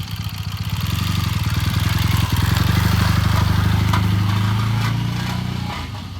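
A 1978 Triumph motorcycle engine runs close and loud at a steady idle, with a rapid rhythmic rattle and clatter riding over the pulsing exhaust.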